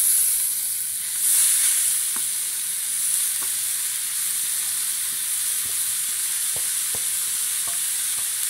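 Grated bottle gourd is sautéed with spice powders and salt in a pan, making a continuous soft sizzle and hiss punctuated by light stirring clicks, with no talking.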